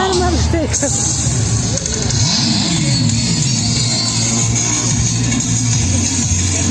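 A Bajaj Pulsar N150 motorcycle being ridden at a dealership launch show, its engine a steady low drone with rising revs, under continuous loud talk and crowd noise.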